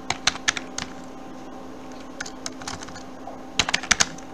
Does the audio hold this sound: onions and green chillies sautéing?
no